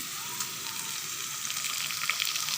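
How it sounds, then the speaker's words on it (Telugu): Dried red chilies, green chilies and curry leaves sizzle steadily in hot oil in a home kitchen pan, a continuous bright crackling hiss with small pops, close and alone. "ఎండుమిర్చి కొంచెం వేగాలి."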